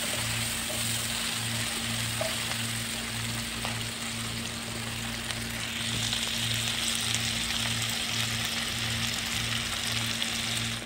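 Chopped Indian onions slowly frying in a pan, giving a continuous close sizzle over a steady low hum, with no talking throughout.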